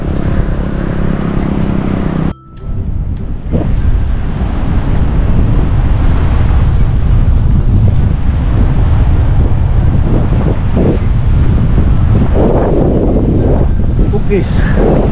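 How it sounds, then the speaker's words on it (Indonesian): Strong wind buffets the microphone at the Binmaley–Lingayen beach baywalk in Pangasinan, a loud, constant low roar, with surf and brief bumps of handling mixed in throughout. "Angin."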